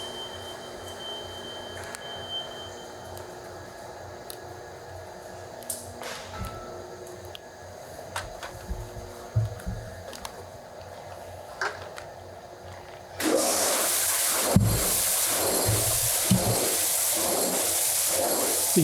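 A 200-gallon Bretta direct-drive liquefier blender with motors beneath the tank starts up in a food plant. After a low, quiet hum, a loud, steady roar suddenly begins with rhythmic churning pulses.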